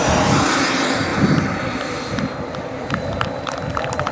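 A radio-controlled model F-104 Starfighter jet lands at a jet model airshow, its turbine whine sustained and gradually falling in pitch as it rolls out, with broad rumbling noise throughout.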